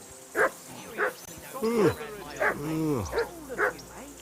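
Dog barking in the video game Kingdom Come: Deliverance II, a series of sharp, evenly spaced barks close by, with whimpering yips between them and voices talking over part of it.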